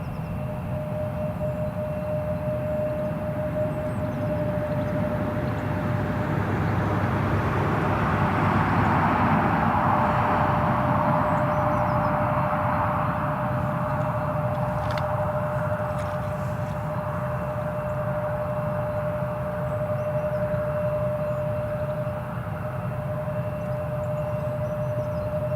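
Embraer 170 airliner at Newcastle International Airport, a steady, loud jet engine roar with a sustained whine, swelling slightly midway and holding throughout without a break.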